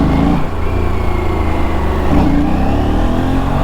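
An Aprilia RS 457 motorcycle engine revs steadily up close with throttle delay, a loud continuous mid-pitched drone that stays high throughout with a slight dip and surge.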